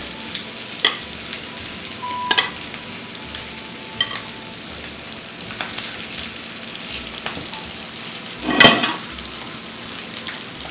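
Two pheasants brown in a pan for an 1890s-style cream dish, a steady close sizzle of frying broken by occasional clinks and scrapes of stirring, with one louder clatter near the end and no talking.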